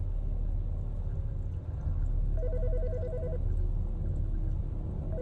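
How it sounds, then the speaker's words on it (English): A telephone rings in the Autopsy Simulator video game, one brief warbling electronic ring over a constant low background hum. "The fucking phone."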